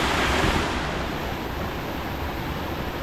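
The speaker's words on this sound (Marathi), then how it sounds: "मस्तपैकी पाऊस आहे बघा, मस्तपैकी पाणी पडतंय वॉटरफॉल एकदम." A waterfall pours heavily in the rain, a loud, broad, unbroken roar of falling water with rain mixed in, steady from start to finish with no voices.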